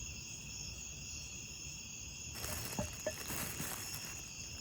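Crickets chirp steadily at night beside an outdoor wood fire, a continuous high trilling throughout, joined halfway by faint crackles and pops from the burning wood.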